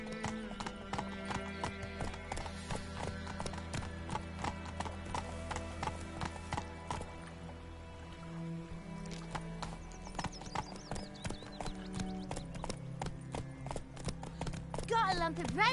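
Horse hooves clip-clop in a steady, close, repeating rhythm while riding through White Orchard in The Witcher 3, with a horse neighing and a voice talking over the hoofbeats and game music.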